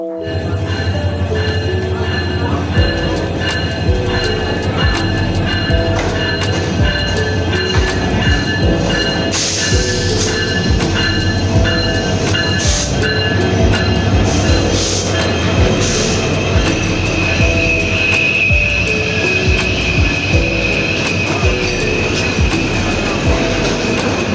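The Mahanagar Express passenger train, boarded at Bhairab in Bangladesh, rumbles steadily and loudly throughout, with continuous wheel-on-rail roar, faint metallic ringing and occasional sharper clatters, and no talking.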